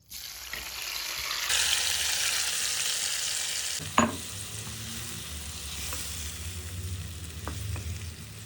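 Marinated cauliflower frying in a pan with browned chillies, a bright hiss jumping up as the pieces go in, then a steady close sizzle with a clack of the spatula and light stirring scrapes, no voices.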